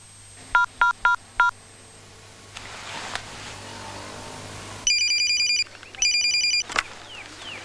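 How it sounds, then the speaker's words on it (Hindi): A telephone sounds an incoming call with short bursts of electronic ringing tones, loud and close, with quiet room noise in between and no talk. "Mishra ji, there's a call for Santosh ji."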